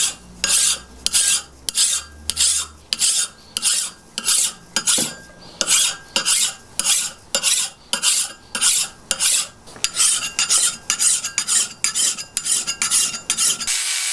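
A 200-year-old broad axe is sharpened with a file along its edge, giving steady rhythmic rasping strokes of about half a second each, repeated close up with short gaps and no talking.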